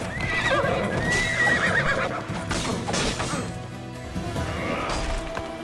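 Horses galloping in the video game Assassin's Creed Odyssey, rapid clip-clop hoofbeats with loud neighs and whinnies, plus thuds and crashes of mounted combat up close.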